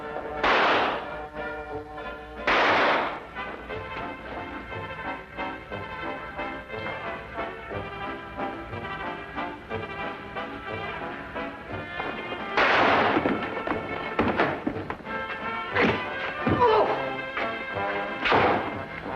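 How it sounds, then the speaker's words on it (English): Gunshots in a Sherlock Holmes adventure game set on a night train, heard as loud sharp bursts near the start and again around the middle and end, over a busy orchestral music score. "Fire it, Holmes. Fire it"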